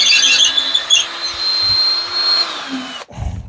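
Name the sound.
power drill drilling hole with longer bit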